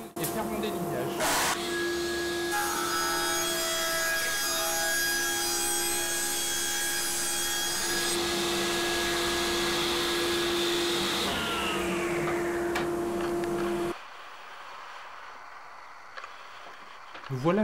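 A woodworking machine rips lumber with its dust extraction running, producing a loud, continuous whine and roar under a steady cutting hiss that holds for about fourteen seconds before dropping to a quieter run-down.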